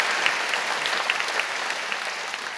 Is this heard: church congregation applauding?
yes